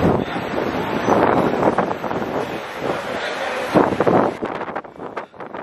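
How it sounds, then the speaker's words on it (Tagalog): Strong wind blowing outdoors in Belgium, loud gusty buffeting on the microphone that surges and eases in waves, with brief voices heard amid the rushing noise. "Sobra yung hangin, be. Ang lala."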